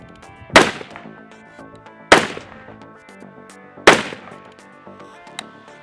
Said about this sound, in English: So we're going to take a few more shots down range, see what our groupings look like.